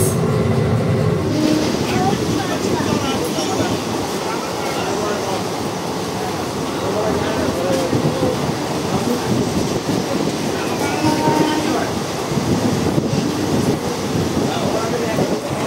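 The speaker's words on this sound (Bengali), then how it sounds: "আর সামনাসামনি কোনো ট্রেন না থাকার কারণে ভালোই আর কি স্মুথ চলছে, 110 একদম চলছে, ম্যাক্স পারমিশন স্পিডে কনস্ট্যান্ট" A Tebhaga Express passenger train runs steadily at speed, a continuous loud rumble and rattle from onboard with faint rhythmic clatter throughout.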